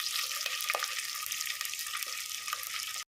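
Onion and asafoetida frying and being stirred in a pan for drumstick sambar, a steady close sizzle with a few soft scrapes of the spoon throughout, no voices.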